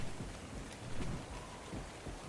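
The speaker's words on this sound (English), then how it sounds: "Oh, is it night raining? Night rain." Rain falling at night in the survival game ARK: Survival Evolved, a steady dense hiss of raindrops with low rumbling swells like distant thunder, moderately loud and alone without voices.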